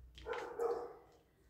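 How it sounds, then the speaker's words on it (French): A single bark from a neighbour's dog across the way, fairly faint and slightly distant, with no talking around it. "Pardon pour le chien, il est en face, mais il aboie toute la journée."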